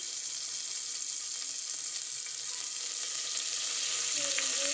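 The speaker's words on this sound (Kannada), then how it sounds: "ಆಮೇಲೆ ಕರ್ಬೇವಿನ ಸೊಪ್ಪು ಹಾಕ್ಕೋಬೇಕು ನೆಕ್ಸ್ಟ್ ಇದನ್ನ ಚೆನ್ನಾಗಿ ಫ್ರೈ ಮಾಡ್ಕೋಬೇಕು" Garlic and curry leaves fry in a pan with a steady, hissing sizzle close by, swelling slightly toward the end. Faint scrapes of stirring sound under it, and no one speaks.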